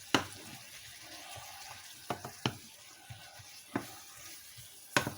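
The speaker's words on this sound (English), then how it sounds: "See, I'm going to stir it up a little bit." Green peppers and onions frying in canola oil for an omelette, stirred with a utensil: soft background sizzle broken by several sharp scraping clicks spaced a second or so apart.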